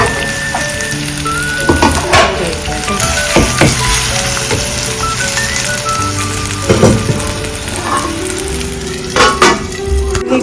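Tomatoes fry in a masala for Tamil Nadu-style rasam, a loud steady sizzle broken by several sharp clinks and scrapes of a stirring utensil against the pan.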